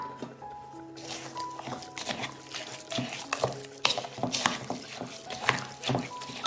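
Half a litre of water poured into a flour-free seed mixture for Swedish seed bread, with wet trickling, stirring and squishing sounds close by, small drips and clicks scattered throughout.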